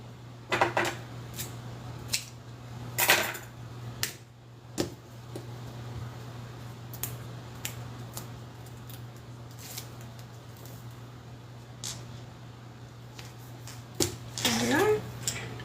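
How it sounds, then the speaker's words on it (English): Scissors cutting out a fabric pattern piece for a beginner sewing project, heard as short, crisp snips and rustles spaced irregularly over a steady low hum, with someone talking in between. "I cut out one of the pattern pieces"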